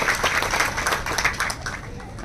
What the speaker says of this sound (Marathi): एकदा जोरदार टाळ्या झाल्या पाहिजेत या सगळ्या रणरागिणींसाठी